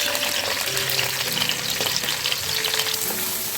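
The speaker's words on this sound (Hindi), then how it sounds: "यहाँ पे प्याज को थोड़ा सा हम जो है वो ब्राउन करेंगे। तो फ्लेम मेरी फुल है यहाँ पे।" Onions fry briskly in olive oil over a full flame, a dense, loud, steady sizzle with faint stirring scrapes, close by and without speech.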